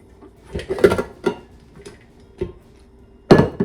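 Utensil scraping gluten free dinner roll dough made with Great Value gluten free flour together in a mixing bowl: a handful of sharp, separate clanks and scrapes, close and fairly loud, with quiet gaps between.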